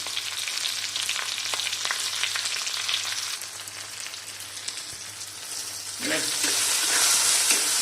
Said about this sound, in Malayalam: ഇനി എല്ലാം വെളിച്ചെണ്ണ കിടന്ന് നന്നായിട്ട് മൂത്ത് വരച്ചേട്ടോ